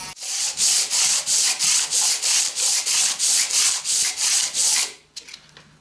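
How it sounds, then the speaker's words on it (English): Dremel with a small drum sander chamfering the edges of aluminium castings for a vice, a loud rhythmic rasping swept back and forth about a dozen times, then stopping. "I can do that with a Dremel, just with a small drum sander, just sweeping that backwards and forwards"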